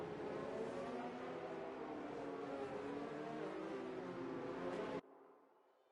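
Formula 1 cars from a racing video game roll through the formation lap at the Chinese circuit, a steady dense engine drone holding for about five seconds before cutting off abruptly to a faint residual hum.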